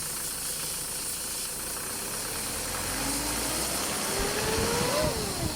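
A 2009 Kia Sorento with a crank-but-no-start fault, its engine idling steadily with a constant mechanical hum and faint knocking, then a brief rising whine near the end.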